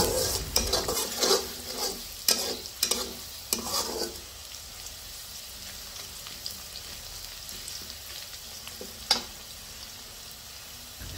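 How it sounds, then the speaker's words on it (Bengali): Whole cumin, cinnamon and cardamom being stirred and fried in a pan for a village-style fish curry, with clattering spoon scrapes and bursts of sizzling early on, then a quieter, faint frying hiss. "এখন এই সবগুলো উপকরণ নেড়েচেড়ে ভালোভাবে ভেজে নেব।"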